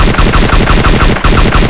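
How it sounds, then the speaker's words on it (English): Rapid automatic gunfire from the DayZ survival game, a steady burst of repeated shots close and loud, with one brief gap before the firing resumes. "He's shooting up at Electro Hill at the guy in the black"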